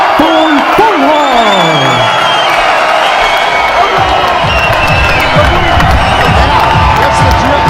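An arena crowd at a boxing match roars and cheers for the winner after a unanimous decision, a loud, sustained wall of shouts and whoops. An announcer's voice sweeps in over the top at the start.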